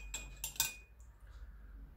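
A spoon stirs a liquid of water and red food coloring in a glass, giving a few quick metallic clinks against the glass, close and faint, followed by quiet.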